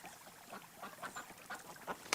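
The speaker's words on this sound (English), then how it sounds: "Calm down, ducks." Ducks quack faintly in short, scattered calls, several bursts spread across a couple of seconds, with a slightly louder call at the very end.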